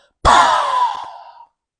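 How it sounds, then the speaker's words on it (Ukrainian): A forceful, sustained exhale pushed out through the mouth during a kundalini yoga breathing exercise, loud and close. It is a single breathy rush of about a second that fades away, with no talking over it. "Потужний пушечний видих через рота."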